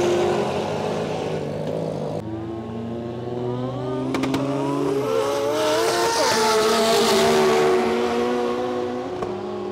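An 1800 HP Nissan R34 GT-R race car roars on a track, its loud engine note rising and falling through gear changes, with a sharp higher whine surging near the middle and no talk.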